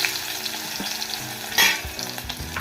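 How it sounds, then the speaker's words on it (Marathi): Cumin and mustard seeds crackle and sizzle in hot oil for an upma tempering, a steady close frying hiss with scattered pops and one sharper burst of spatter midway, no voices. "त्यात आपण जिरं मोहरीची फोडणी देऊया।"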